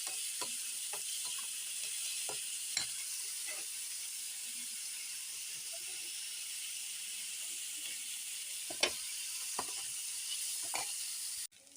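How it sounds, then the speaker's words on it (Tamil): Onions sautéing in a pan for spicy chutney, a low steady sizzle with occasional scraping and clinking from a spoon stirring against the pan, close and without talk. "இப்போ வெங்காயம் வதங்கிடுச்சு"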